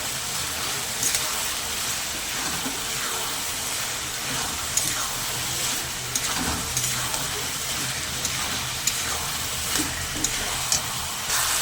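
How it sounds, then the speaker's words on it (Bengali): Turmeric powder is stirred into bottle gourd and prawns in a pan, a steady dense sizzle with faint scraping strokes running evenly throughout at close range. "হলুদ গুঁড়ো দেওয়ার পরে আমি একটু নাড়াচাড়া করে নেব"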